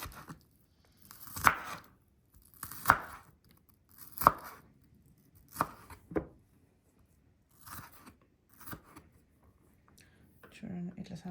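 Knife chopping onion finely on a board for an avocado chickpea sandwich, sharp separate cuts spaced about a second or more apart, close and clear, slowing toward the end with a soft rustle.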